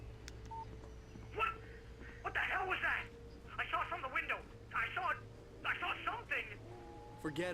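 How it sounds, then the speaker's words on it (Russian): A telephone rings in bursts of warbling electronic tone, several rings spaced a second or so apart, over a steady low hum and a faint background voice. "Кто же это звонит?"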